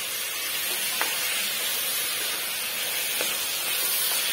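Ginger, garlic and tomato masala for biryani sizzles steadily in a pan while being stirred, a continuous frying hiss with a couple of faint scraping clinks of the spoon and no talking.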